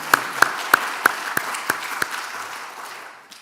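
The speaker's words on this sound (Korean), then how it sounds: "뜨거운 감사의 박수입니다" A church congregation applauds after a choir's hymn, a dense wash of clapping with a few loud, evenly spaced claps standing out near the front, fading away at the end.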